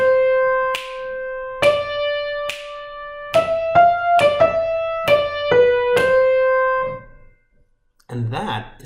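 A short melody of bright, plucked-sounding tones is played with the order of its pitches and rhythms reversed, about a dozen clear notes in an uneven rhythm, near and alone. A brief burst of other sound follows at the end.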